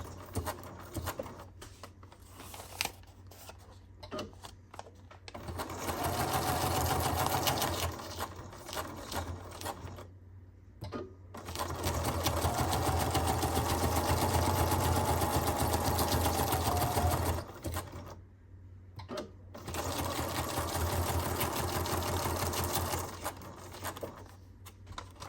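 A sewing machine stitches zigzag on a paper envelope, its rapid mechanical patter coming in several bursts with short pauses between. It is close and moderately loud, with no talking.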